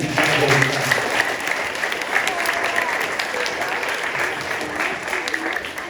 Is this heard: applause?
yes